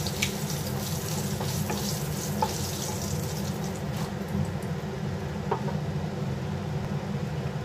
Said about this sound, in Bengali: এই তেলের মধ্যেই দিয়ে দিলাম 1/2 চামচ কালো জিরে